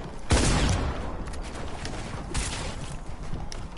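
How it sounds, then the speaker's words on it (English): A harpoon gun fires in a Fortnite-style creative-mode video game, with one sharp loud shot followed by a sustained noisy rush and scattered impacts. "It's a harpoon gun."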